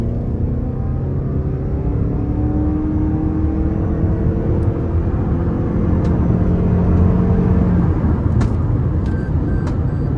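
A 2019 Toyota RAV4 Hybrid LE AWD accelerates from inside the cabin, a loud steady road roar and engine drone with rising tonal whine building over ten seconds, a few faint clicks near the end, no talking.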